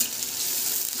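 Ginger garlic paste and onion fry in a pan with a steady, close hiss of sizzling oil, unbroken and fairly soft throughout.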